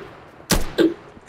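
Two sharp gunshots fire in quick succession in the Roblox game OutLaw, loud and close, followed by a brief faint tail.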